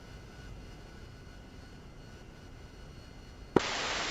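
Huey helicopter engines in a game setting hum as a low steady whine, then an abrupt loud rush of broadband roar kicks in near the end as a turbine spools up.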